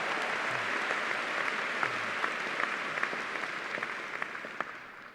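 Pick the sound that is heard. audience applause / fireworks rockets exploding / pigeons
audience applause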